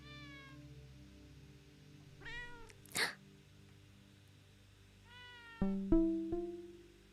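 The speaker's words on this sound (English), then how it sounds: "Heard the cat." A cat meows several times in a row, the calls clear and fairly close, with a sharper burst partway through and a louder run of meows at the end.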